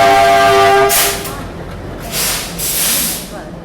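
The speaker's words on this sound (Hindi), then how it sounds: "प्रीमियम गाड़ी का डिपार्चर हो रहा है" A premium passenger train pulls out of Kanpur station. A loud tonal horn-like blast opens the sequence, followed by bursts of hissing and rumbling rail noise close by.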